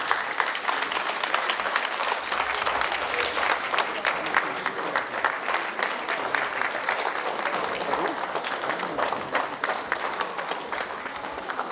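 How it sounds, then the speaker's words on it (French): Loud, continuous crowd applause at a tribute gathering, thick rapid clapping sustained evenly for nearly twelve seconds with no break. "Sous vos applaudissements"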